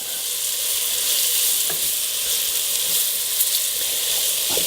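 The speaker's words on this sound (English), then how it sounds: "Try to get it all browned evenly on each side." Flour-dusted beef for stroganoff browns in a hot frying pan. A loud, dense, steady sizzle carries through the whole stretch, with a few faint scrapes and taps from turning the meat. No voices are heard.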